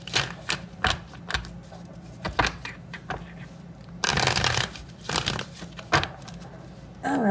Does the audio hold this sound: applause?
no